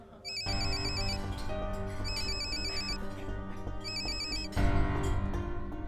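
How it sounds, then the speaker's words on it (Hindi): A phone ringtone plays a repeating electronic melody in three bursts over a steady musical backing, loud and close with no talking. "पलक का फोन आ रहा है"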